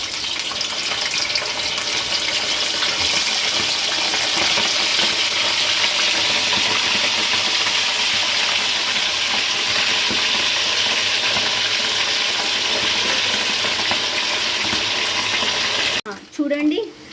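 Chicken pieces frying in hot oil for a chicken pickle, a loud, steady sizzle lasting throughout before it cuts off abruptly near the end, followed by a few brief knocks.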